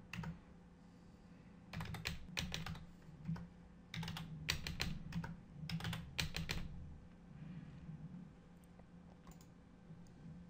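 Typing on a computer keyboard while entering grid coordinates in design software, heard as bursts of quick, fairly faint key clicks separated by short pauses, close by over a low steady hum.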